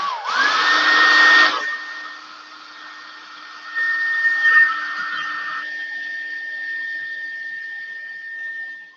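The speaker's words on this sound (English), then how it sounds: "So let me hit this with the dryer." A hair dryer whines as it starts and then blows steadily close by, drying glitter paint on a pink ornament. Its high tone falls and lifts as the dryer is moved, and it eases off near the end.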